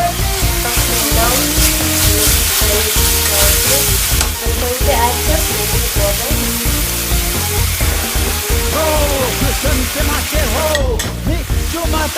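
Stir-frying in a pan after a teaspoon each of soy sauce and cooking oil go in while making pork keema noodles: a loud, steady sizzle with stirring and scraping clatter throughout.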